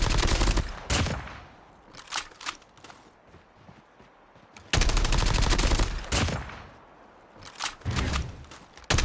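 Mobile shooter game gunfire sounds in loud bursts of rapid shots separated by quieter gaps, with a few single sharp cracks and no talking.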